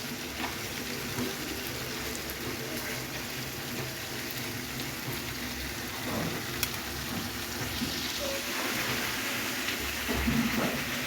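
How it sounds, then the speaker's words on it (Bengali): A blended paste of tomato, coriander leaves, green chili, onion, ginger and garlic fries in a pan with no water added, giving a steady, dense sizzle that runs throughout with no voices. "একবারে মাখা মাখা করে ভেজে রান্না করে নেব"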